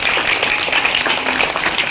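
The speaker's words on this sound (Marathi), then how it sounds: "जोरदार टाळ्या वाजवून आपण त्यांचे स्वागत करूया" Audience clapping to welcome guests at a school event marking the Swami Vivekananda and Rajmata Jijau birth anniversaries, a dense, steady burst of many hands sustained throughout the short stretch, with no talk over it.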